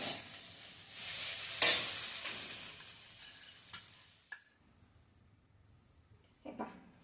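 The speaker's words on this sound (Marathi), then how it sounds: "आता ते भिजलेले हळेव मी सगळे ह्यामध्ये घातले चांगलं परतून घ्यायचं आहे" Soaked halim (garden cress) seeds being sautéed in a pan for a fasting kheer, with soft scraping stir strokes and a light sizzle, one sharp clink near the start, then quieter scrapes and a brief stir near the end.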